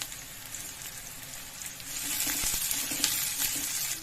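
Curry leaves dropped into hot oil for a chickpea usli, giving a steady hiss of frying that swells louder and crackles more intensely about halfway through, close and continuous, without speech.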